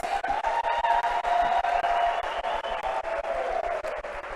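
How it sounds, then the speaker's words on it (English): Audience applause at a national convention at UNISA in South Africa, a steady dense round of clapping held at even loudness throughout, with faint voices mixed in. "A louder round of applause."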